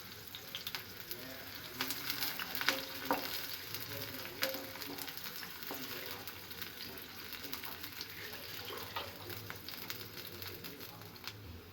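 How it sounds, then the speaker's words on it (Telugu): Onions and green chillies frying in a kadai, a quiet continuous sizzle with irregular stirring scrapes and clicks, close but fairly low in level, with no speech over it. "ఒక కడాయిలో ఆనియన్స్, పచ్చిమిర్చి వేసి ఎర్ర అయ్యే వరకు వేగించాలి"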